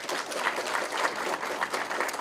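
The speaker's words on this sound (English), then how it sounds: "Let us give the Ministry of Home Affairs a round of applause." An audience at a regional State of the Region Address applauds, a moderately distant, even wash of clapping from a large crowd that holds steady throughout.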